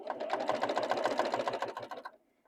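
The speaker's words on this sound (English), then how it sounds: "We're going to sew these and these together just like that." A sewing machine stitches quilt blocks together in one fast continuous burst of rapid needle strokes, loud and close, stopping abruptly near the end with no talk over it.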